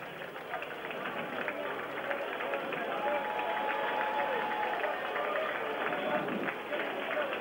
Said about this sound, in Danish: Og klappes i mål.